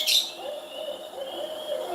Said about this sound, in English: Yeah, it's a barred owl.